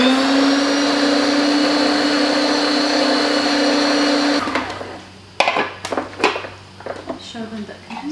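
A blender whirs loudly and steadily while blending bora batter, then cuts off, leaving faint kitchen clatter and a voice talking.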